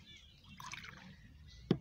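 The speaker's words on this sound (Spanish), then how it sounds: "Le vamos a poner otro poco de agua a que quede," Water poured into a black corn atole mixture, a soft trickling splash building briefly, then a sharper drip or plop near the end, heard close with faint background noise.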